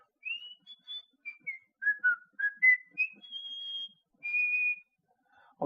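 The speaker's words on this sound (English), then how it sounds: "Let's see if I can whistle." A person whistles a simple melody alone, a string of short clear notes ending in one longer held tone.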